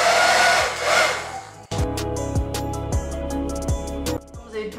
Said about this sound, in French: Vous allez donc prendre votre sèche-cheveux.